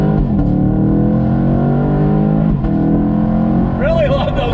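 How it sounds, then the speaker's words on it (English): A 2019 Chevy Camaro SS convertible with a pushrod V8 accelerating under load, a loud rising engine drone broken by short dips and pops at gear shifts, with a voice talking over it. "every time it shifts, you get a wonderful pop coming from"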